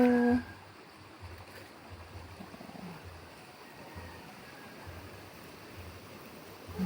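Gentle flowing stream water after rain, a soft steady wash of moderate-to-faint level that runs continuously after a brief voice at the start.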